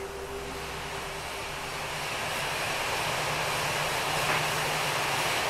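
An Airbus airliner in Microsoft Flight Simulator spools up for takeoff, a broad steady engine roar with a low hum that gradually swells in loudness, heard alone without talk.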